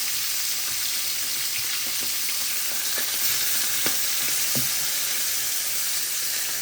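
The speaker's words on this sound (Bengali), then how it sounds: "মাছের তেলে পেঁয়াজটা ভাজা হয়ে যাবে" Onions frying in the oil left from sardines make a steady close sizzle with a few scraping stirs and soft knocks scattered through it, and nobody speaks.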